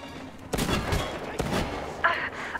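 Gunfire in the video game Metro Exodus, a few sharp close bursts of shots spaced across a couple of seconds, with a faint shout near the end.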